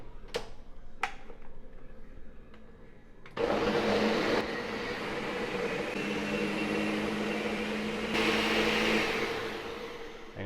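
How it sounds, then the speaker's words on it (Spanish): Electric blender whirs loudly and steadily after a few clicks and taps, puréeing homemade sazón ingredients with water, its motor pitch shifting slightly midway as the liquid churns for about seven seconds. "Cerramos y procedemos a licuar."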